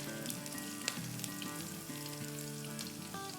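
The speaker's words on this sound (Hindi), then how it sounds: "और इसको सॉटे करेंगे।" Chopped garlic and chilli sizzle and fry in a hot pan, a steady dense crackle with a few sharper pops, loud and continuous throughout without any talking.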